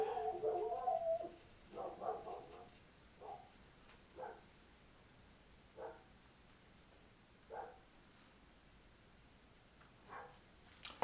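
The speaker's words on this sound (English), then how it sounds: "the dogs are barking" Dogs barking at a distance, a cluster of rapid barks at first and then single faint yaps spaced out every second or two, with a quiet background.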